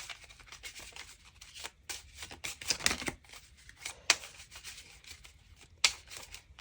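Tarot cards being shuffled and cut by hand, a steady papery riffle and rubbing with several sharper snaps of the deck, close and fairly quiet with no talking.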